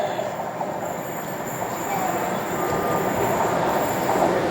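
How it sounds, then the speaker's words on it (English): A passenger train pulls into a station on the line near Todmorden, its steady rumble and wheel noise close by, a faint high squeal running over it, with no talking. "this is our next train now"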